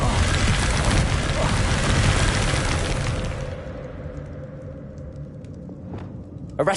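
A Confringo spell explodes in the Hogwarts Legacy video game, a loud, dense, crackling blast that rumbles for about three seconds before fading into quieter ambience with a faint sharp pop near the end.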